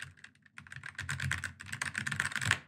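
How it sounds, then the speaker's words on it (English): Brisk typing on a Keychron mechanical keyboard fitted with brown switches, a dense run of close, crisp key clicks and thocks that pauses briefly near the start, then keeps an even, steady patter. "It's a mechanical keyboard and you can definitely tell it's mechanical."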